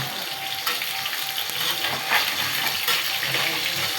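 Katla fish pieces frying in a pan, a continuous dense sizzle with crackling spatter, steady and close, with faint talk in the background.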